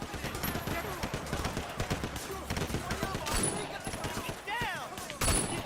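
Gunfire in the video game Sleeping Dogs, rapid repeated shots and bursts in a busy fight, with voices talking over the shooting.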